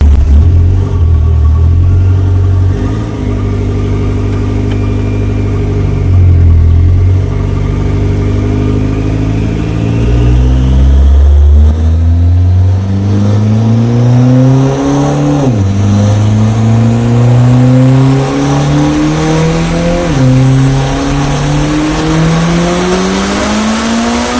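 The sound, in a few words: Mitsubishi 1G DSM car engine revving on dyno run, 40 psi boost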